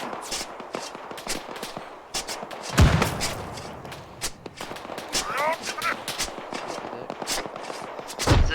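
Arma 3 gunfire in a jungle battle, short bursts and single shots at varying distance scattered through the stretch, with players talking over the radio throughout.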